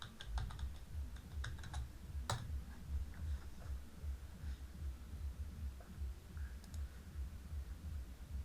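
A search is typed on a computer keyboard, producing a close, quiet run of rapid key clicks with brief pauses and a few sharper taps. No one speaks.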